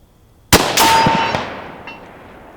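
A sharp rifle shot cracks close and loud, and a fraction of a second later a steel target at 200 yards rings with a metallic clang that trails off slowly, followed by a faint tick.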